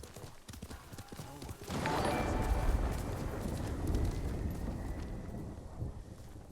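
Horse hooves gallop steadily in Ghost of Tsushima, a continuous rhythmic clip-clop with wind rushing over it, starting softly and growing fuller after a couple of seconds.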